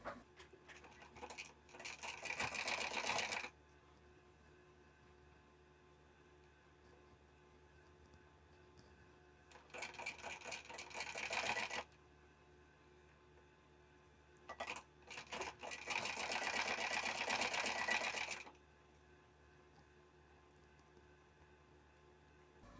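A sewing machine stitches the corners of a blouse in three separate runs of rapid, steady mechanical whirring, each lasting a few seconds, with quiet pauses between them.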